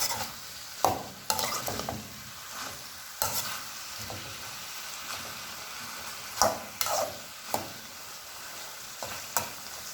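Chicken being stirred with lemon juice in a hot pan for pepper chicken, with steady frying sizzle and repeated scraping stirs of the spoon against the pan, close and fairly loud, no talking.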